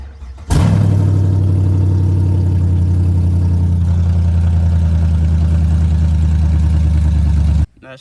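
A Chevrolet Camaro engine with a new aftermarket exhaust starts up and idles loudly with a deep, rumbling exhaust drone, steady and close, then cuts off abruptly.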